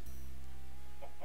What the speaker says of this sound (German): die Hühner sind voll produktiv